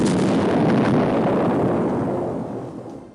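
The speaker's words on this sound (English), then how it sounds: "To take an example, this explosion sound effect" A single deep, roaring blast fills the air at once, then slowly rumbles and fades away with no voices around it.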